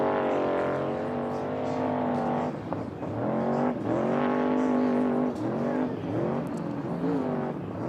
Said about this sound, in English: listen to his throttle